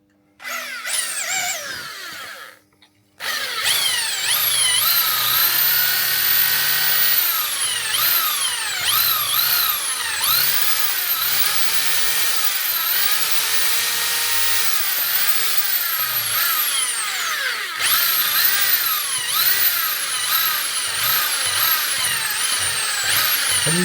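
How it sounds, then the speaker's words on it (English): Power drill boring into a stuck wheel on a Honda Monkey 125cc, a loud, close, whining drone with repeated rising and falling pitch sweeps as the bit bites and the motor speeds up, following a brief first burst and pause. "Let's try another drill."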